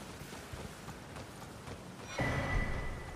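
Horse hooves clip-clop steadily in an Elden Ring game scene, a faint rhythmic trot under ambient noise, then a louder burst of sound with a brief neigh near the end.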